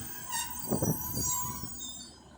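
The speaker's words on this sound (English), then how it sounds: "Squeaky brakes." Passenger train brakes squeal at Castleton station on the Calder Valley Line, with high-pitched tonal squeaking over wheel and rail rumble, close by and moderately loud.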